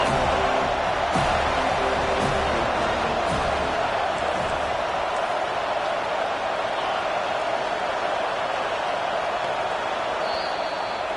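Home football crowd roaring as the defense tries to get a third-down stop in a #8 Notre Dame vs #7 Florida State game, a dense, steady wall of stadium noise holding loud throughout with scattered whoops.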